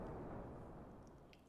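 A high-explosive tank shell fires in the WWII tank game Armoured Commander II, a single deep muffled boom that rolls out into a fading low rumble.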